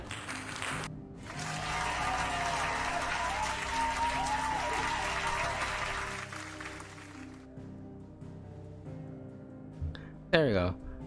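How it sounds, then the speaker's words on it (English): Cheers and applause from a crowd in the video game Final Fantasy 16: a loud, sustained wash of clapping that lasts about six seconds over tonal game music, then cuts off. "I think through cheers and applause."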